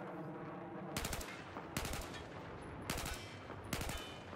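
In the video game Battlefield 4, an M4 or M16A4 rifle fires in short bursts. There are four sharp, loud clusters of rapid shots, separated by brief pauses, against a low game background.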